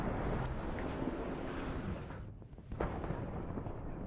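Artillery shells land in the strategy game WARNO, producing rumbling explosive blasts with a brief lull midway before another heavy boom and continued low rumble.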